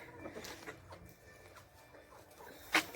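Soft clucking from a chicken close by, low and intermittent, ending with one sharp short squawk.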